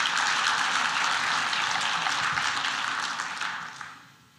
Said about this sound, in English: So a round of applause, everybody